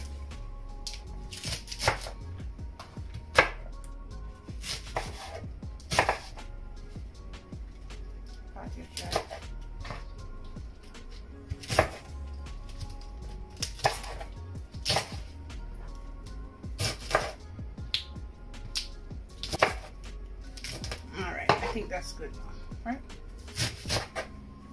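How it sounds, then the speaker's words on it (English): Aloe vera leaves are cut up with a knife, giving a run of irregular sharp chops and knocks spread across the stretch, with quieter handling noises in between. "I'm just going to make some cuts. Just cut them up."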